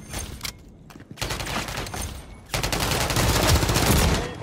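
Rapid automatic gunfire from a Call of Duty: Modern Warfare 3 multiplayer match, with dense bursts that pause briefly then return louder and sustained, close and continuous with no talk.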